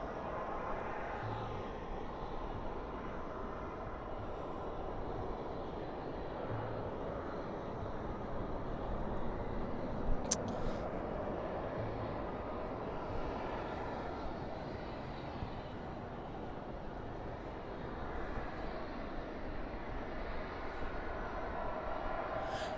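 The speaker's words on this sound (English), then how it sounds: "That is a 737-800. Spoilers up, reversers out." A Boeing 737-800 lands at night at Dallas/Fort Worth airport with spoilers up and reversers out, heard as a steady distant roar of reverse thrust that swells slightly and then holds.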